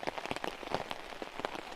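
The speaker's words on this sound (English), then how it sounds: "I don't think it's going to stop raining at all" Heavy rain pours onto a hammock camp tarp in a cold, wet woodland, a dense continuous patter of drops with sharper individual splats standing out, close and steady throughout.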